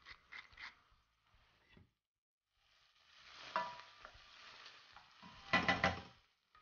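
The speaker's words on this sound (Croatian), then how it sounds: "I na lagano vatri pržimo dok povrće malo ne omekša." Chopped onion and crushed garlic, lightly salted, frying gently in olive oil, with soft sizzling and several stirring scrapes in separate bursts, the loudest near the end, quiet and with no talk.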